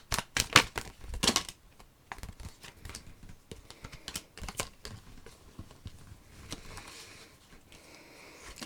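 Tarot cards are shuffled in quick, crisp bursts of riffling and slapping, loud at first and then settling into lighter, scattered taps and card handling close by.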